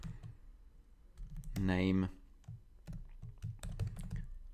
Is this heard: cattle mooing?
no